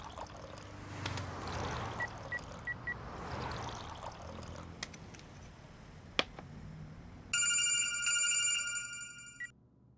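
A telephone rings on an outgoing call to a politician, a bright repeating electronic ring that starts near the end after a stretch of quiet indoor ambience with scattered small clicks and knocks.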